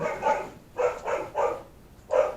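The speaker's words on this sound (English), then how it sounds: "next door the dog's barking" A neighbouring dog barks four times in a steady, fairly close series of sharp woofs, each separated by a short pause, with no talking over it.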